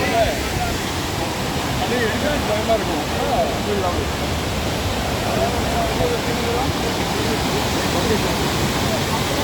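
Courtallam waterfall pours with a dense, continuous roar of rushing water, loud and close, a steady broadband wash filling the scene; voices faintly mix in beneath the torrent.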